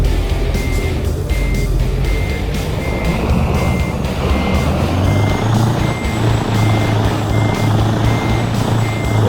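A truck in American Truck Simulator reverses with its backup alarm beeping at a steady, regular pace over a loud, constant diesel engine rumble.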